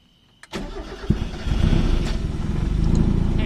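A 1996-97 Mazda Miata with a coil pack conversion cranks briefly and fires up, settling into a loud, steady, slightly uneven idle close by.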